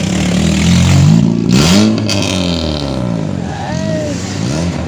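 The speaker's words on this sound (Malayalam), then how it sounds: "അതാണ് ഗൈസ് നമ്മളെ വണ്ടി." A vehicle engine with a modified silencer revs loudly and rises in pitch, then settles and revs again while someone speaks over it.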